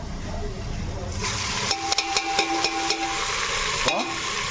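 Onions frying in a pan for biryani, a steady close sizzle with a run of stirring clicks and scrapes in the middle.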